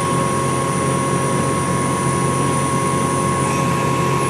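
A Fanuc RoboDrill machining center runs its spindle at 5000 RPM, producing a steady, loud whirring drone with a constant high whine throughout and no talking.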